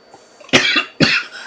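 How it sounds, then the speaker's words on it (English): Two sharp, close coughs, about half a second apart, each a harsh burst that trails off briefly, with quiet in between. "I've got a bit of a cough"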